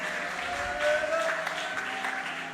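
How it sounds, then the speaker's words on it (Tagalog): A church congregation claps together in a dense, sustained round of applause during worship. A faint tonal hum, likely music, sits underneath the clapping. "Palakpakan natin ang malakas na palakpakang malapay."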